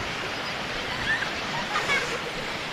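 Water pours over a falls at a new lake at the foothills of Yercaud near Salem, making a steady, broad outdoor rush with faint voices in the background.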